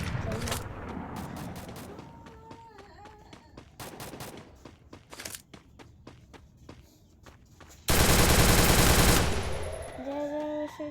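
Free Fire video game audio with bursts of MP40 submachine gun fire, rapid gunshot volleys mixed with footsteps and game effects, including a loud dense burst near the end.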